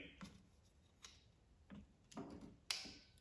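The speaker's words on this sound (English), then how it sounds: "when I get it hooked up properly, you're gonna hear my jump pack click" A few faint, sharp clicks from a jump starter pack hooked to an electric-start lawn mower, spaced irregularly in a quiet setting, the last one slightly louder.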